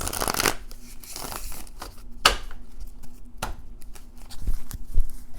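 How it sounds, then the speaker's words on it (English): Tarot clarifier cards are shuffled by hand in repeated riffles and soft slaps, close and fairly quiet, with a faint steady hum underneath and no speech. "I'm going to shuffle the clarifiers"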